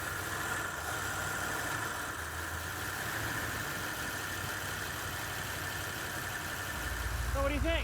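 An old car engine, just started with gas poured into it, settles into a steady rough idle at moderate volume, with the rumble swelling louder near the end.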